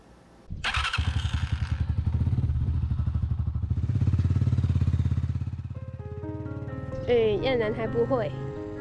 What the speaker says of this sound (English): The sound of the motorcycle engine crosses this farmland.